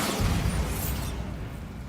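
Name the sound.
Bombarda spell explosion in a video game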